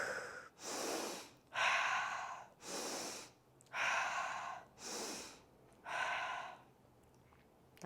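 Deep, slow breathing during a Pilates exercise: six long, loud breaths in a steady rhythm, each separated by a short pause, heard close and alone.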